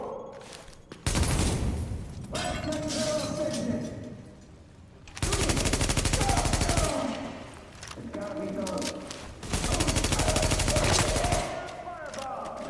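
Gunfire in The Division while shooting enemies, with loud bursts of rapid automatic fire in two long volleys, separated by shorter shots and quieter stretches of ambient noise.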